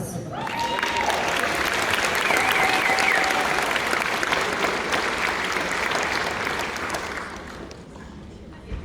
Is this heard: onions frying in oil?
no